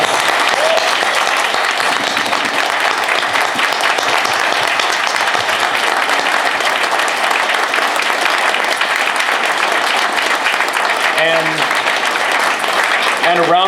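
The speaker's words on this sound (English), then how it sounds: "I'd like a big round of applause for all the nominees." Loud, sustained audience applause for award nominees at a diversity awards event at a comic expo, dense clapping with crowd noise throughout, a few voices briefly audible near the end.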